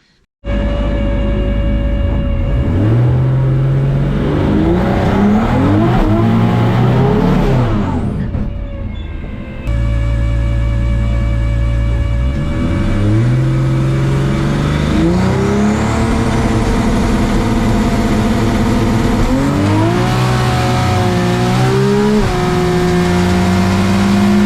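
Chevrolet Camaro drag car on a track pass, loud close engine revving hard through rising, climbing gear sweeps, with a brief dip at a shift before pulling up again through further gears.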